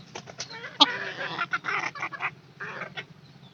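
Hens cluck and squawk in short, uneven calls close by in a backyard poultry setting, with a low steady hum underneath.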